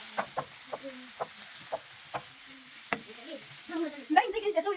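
Meat and onions frying in a pan make a soft continuous sizzle, punctuated by sharp spoon clacks against the pan at intervals, with a voice speaking over the cooking toward the end.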